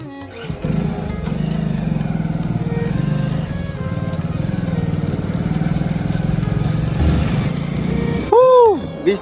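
A motorbike engine runs steadily while riding slowly through the rain toward a fish market, a continuous close drone under the rain with a brief louder rev near the end.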